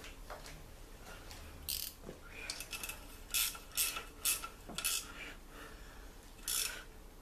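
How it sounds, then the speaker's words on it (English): A wrench works on the rear differential of a 1990 Suzuki Samurai, giving scattered close metallic clinks and scraping clicks in irregular clusters over a quiet background, with no talking. "Just take a wrench."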